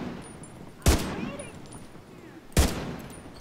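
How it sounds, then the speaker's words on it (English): Two sharp, widely spaced gunshots fire in The Division 2 video game, each a loud crack with a short tail, set over a low steady background hum. "I thought I could shoot him through the window."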